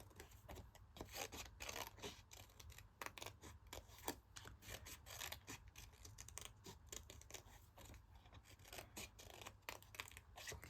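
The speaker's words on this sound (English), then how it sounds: "I'm just going to cut them out." Scissors snip through paper to cut out stamped images, quiet rapid crisp cuts and rustling in an irregular rhythm, faint and close with no talking.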